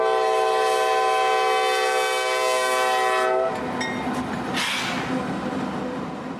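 A Norfolk Southern intermodal freight train, NS 289 bound from New Jersey to Rossville, sounds a loud sustained multi-tone horn, then its rumbling cars roll past close by with a rising rush of wheel noise.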